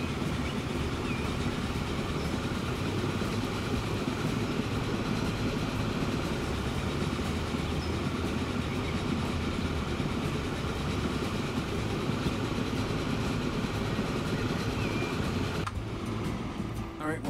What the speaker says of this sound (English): and ride the stone train.